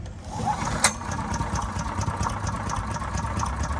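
Predator 212cc small gasoline engine on a wood chipper running after starting, a steady rapid chugging idle with a sharp knock near the start, close and fairly loud, no talking.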